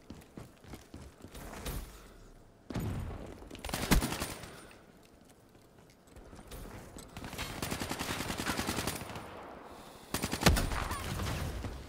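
Gunfire in the video game Call of Duty Black Ops 3 comes in several ragged bursts of rapid shots separated by quieter lulls, fairly loud and close.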